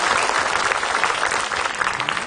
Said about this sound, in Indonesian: Tepuk tangan untuk Ustadz Maulana, silakan Ustadz.